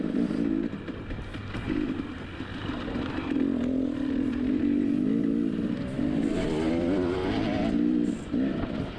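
A dirt bike racing a grand prix course, its engine droning and revving close up with rising and falling pitch as the rider shifts and accelerates, loud and continuous with brief dips, and no talking.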